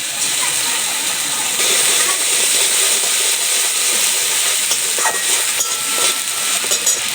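Ginger paste frying in a pan with oil, a loud, dense sizzle and hiss running throughout with occasional stirring scrapes and pops.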